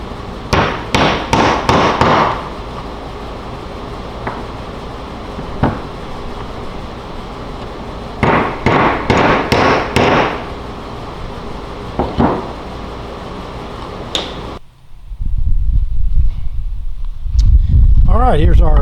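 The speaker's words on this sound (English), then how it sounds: "I'm putting that dowel, that cross dowel in now." A cross dowel is hammered into wood in two quick bursts of sharp, closely spaced blows, with a few isolated strikes between them, loud and near, ending with a brief stretch of low handling noise.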